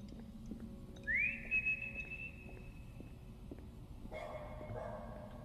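A single rising whistle from the player character in the horror video game Lost in Vivo, followed a few seconds later by a dog's brief bark-like response, all over a low steady ambient game drone.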